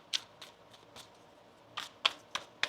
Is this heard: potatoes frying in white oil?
no